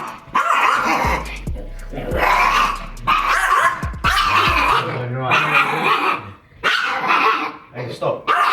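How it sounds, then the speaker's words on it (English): A dog stands in a garden barking loudly and repeatedly, with growls and yips between bursts, close by, while someone talks over it. "He stands in the garden and just barks."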